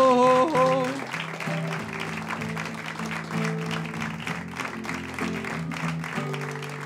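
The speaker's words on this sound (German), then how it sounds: "Einen kräftigen Applaus" A pub comedy show crowd applauds a comedian: steady, dense clapping over loud walk-on music with sustained tones, filling the room throughout.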